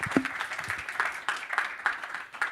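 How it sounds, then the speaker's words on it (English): Audience applause at a hydrogen industry summit, a steady wash of many hands clapping at moderate volume, fairly close and continuous throughout with brief louder bursts. "Second round of applause."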